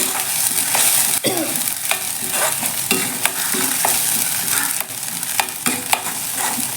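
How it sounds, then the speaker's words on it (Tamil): Ground mint paste fries in a pan for mint rice, close and loud, with a constant sizzle broken by regular scraping strokes of a spoon stirring it. "ஒரு ரெண்டு நிமிஷம் வதக்கினா போதும்"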